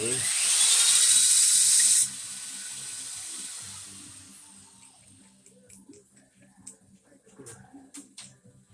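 A grinder running on a 1968 Camaro's wheel gives a loud, steady high whine for about two seconds, then cuts off and winds down, followed by faint clanks and low background voices.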